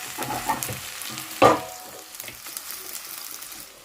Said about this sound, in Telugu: ఆయిల్ కాగిపోయింది వేసేస్తున్నాను